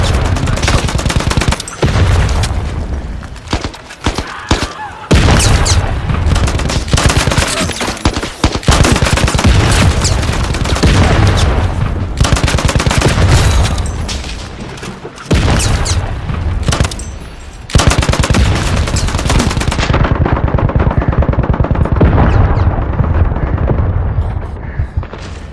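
Nearly continuous, loud automatic gunfire and booming explosions in the VR shooter Zero Caliber during a co-op mission, dense volleys rolling on with only brief dips before easing toward the end.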